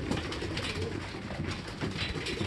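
Racing pigeons arriving home during a training toss, with steady soft cooing and fluttering bird sounds close by over a constant outdoor background hum, no speech.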